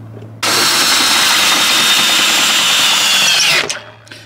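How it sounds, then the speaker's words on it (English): A power drill cranks an RV stabilizer jack, a loud continuous whine starting abruptly and running steady for about three seconds before cutting off, with no talk over it. "And I'll show you how quick that is with a drill."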